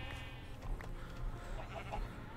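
Minecraft sheep bleating in the game, a few short wavering bleats over a low busy background of game sounds.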